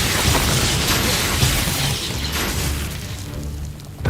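A loud burst from the Expulso blast spell in Hogwarts Legacy: a booming explosion with crackling, shattering debris that rumbles on and fades over several seconds, followed by a fresh thump at the end.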